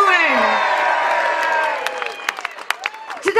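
A crowd at the Freedom March in London cheers and whoops loudly, voices rising and sliding in pitch, then thins into scattered shouts and claps.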